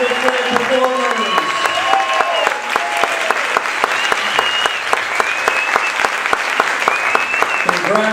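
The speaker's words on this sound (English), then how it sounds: "One more big round of applause for our 45th grade performers" Audience applause for grade school jazz performers, loud dense clapping that runs throughout, with sharp close claps and some voices and cheers mixed in early on.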